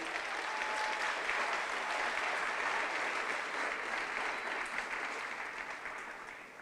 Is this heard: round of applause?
yes